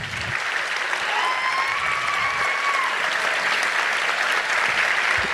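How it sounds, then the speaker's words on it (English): Round of applause for seniors at a high school JROTC awards ceremony, a continuous even roar of many hands clapping in a large room, with a faint whistle or cheer cutting through briefly. "Please give them a round of applause."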